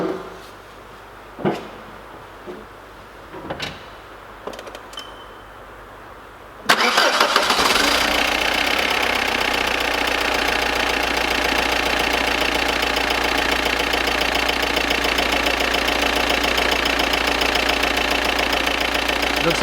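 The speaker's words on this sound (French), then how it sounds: "Donc ça clacote un peu, c'est normal, les poussoirs sont pas amorcés du tout." An Audi Cabriolet engine cranks and catches after quiet shop noises, then settles into a steady loud idle with a light ticking from unprimed hydraulic lifters, running alone without voices.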